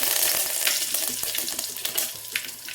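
Garlic, mustard seeds, cumin and curry leaves sizzle in hot oil, a loud, continuous crackling fry with scattered sharp pops and spits, close up and without talk.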